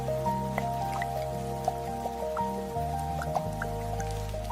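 Rain drips on a cold evening, scattered soft drops landing irregularly over sustained, low, droning musical tones.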